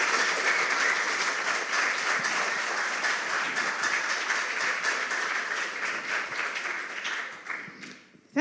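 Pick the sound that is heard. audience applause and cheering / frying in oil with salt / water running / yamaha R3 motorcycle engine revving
audience applause and cheering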